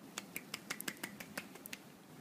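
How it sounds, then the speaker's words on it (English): A hand claps against itself about a dozen times in a quick, uneven run, each clap a faint, dry, close snap in a quiet room. "Clapping with one hand."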